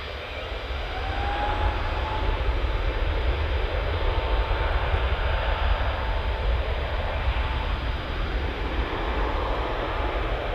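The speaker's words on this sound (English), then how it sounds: "Got the EasyJet just cutting in front here." An EasyJet passenger jet passes overhead, its loud, steady engine roar filling the whole stretch without a break and with no voices over it.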